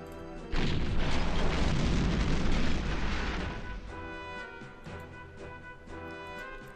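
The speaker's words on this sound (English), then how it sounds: "Let's bomb them first." Bombing in the wargame Panzer General II lands as a heavy rumbling explosion that swells suddenly, holds loud for a couple of seconds, then fades into a lingering tonal hum with faint later pops.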